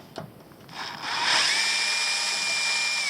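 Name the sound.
unscrewing screw on RC car VKAR Bison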